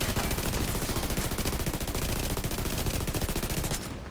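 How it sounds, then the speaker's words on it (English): Minigun fire in the video game The Division 2 rattles out as one loud, sustained burst of rapid, evenly spaced shots that runs almost the full length before cutting off near the end. "I really hate the guy on the minigun"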